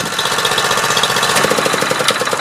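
A Multiquip Mikasa MVH-206GH hydraulic plate tamper, engine not yet warmed up with the choke on, running at full throttle, a loud steady pulsing chug with rattling vibration.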